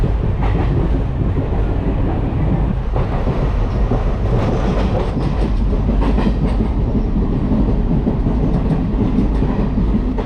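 A train running on the Nilambur–Shoranur broad gauge line in Kerala, with a loud, continuous rumble and rattling clickety-clack of wheels on track that persists unbroken throughout.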